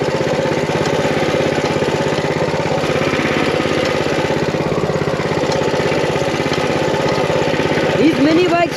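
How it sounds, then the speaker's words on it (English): A big-wheeled mini bike runs off-road with a steady, loud buzzing engine drone close by, unbroken throughout, with a short rising whine near the end. "These mini bikes are really fun."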